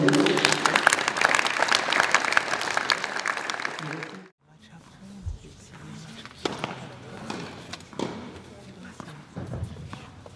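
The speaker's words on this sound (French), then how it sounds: "Merci d'applaudir Chalice Royaux." Applause from the crowd at a youth tennis tournament prize ceremony runs loud and dense for about four seconds, cuts off abruptly, and then scattered claps, thuds and murmuring voices follow.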